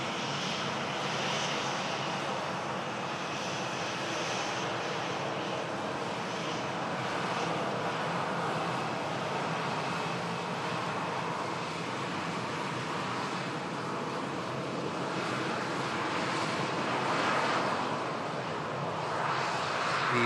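An airliner, flight 2873 bound for Hurghada, rolls along the taxiway at Manchester Airport, its jet engines giving a steady, fairly loud whine and roar that holds evenly for the whole stretch without any talk.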